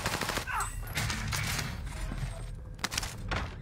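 Bursts of rapid automatic gunfire in a first-person shooter video game crackle densely and loudly from start to finish, with a distinct single crack near the end, over a steady low background rumble.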